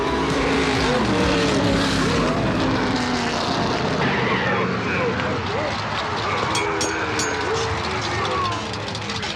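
A cartoon car engine races with a loud, continuous roar that rises and shifts in pitch, while voices talk over it.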